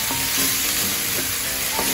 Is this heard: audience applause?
no